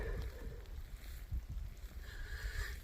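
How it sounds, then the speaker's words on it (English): Faint wind blows outdoors, rumbling softly against the microphone with a few gentle gusts and distant hiss, no talking. "Oh, it's windy, I'm sorry."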